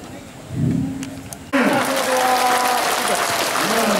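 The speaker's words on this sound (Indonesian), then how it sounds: "Bapak Mayor Jenderal TNI Andi Sumangaruka, tepuk tangan dulu." Applause at an Indonesian military aid-handover event in Makassar, a faint murmur at first, then steady clapping from a crowd that swells abruptly and holds under a loud public-address ring.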